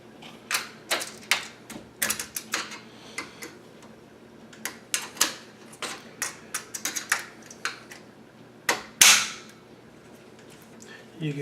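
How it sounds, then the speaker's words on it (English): Rollers on a mirror closet door snapping into place, a scatter of sharp, close metallic clicks and snaps at irregular intervals, with one louder crack near the end. "You can hear they just snapped in."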